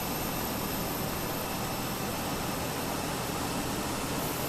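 Steady broadband roar of an airliner jet engine spooling up in a flight simulator during an Isle of Man to Bristol flight, constant and even in level, with no talk.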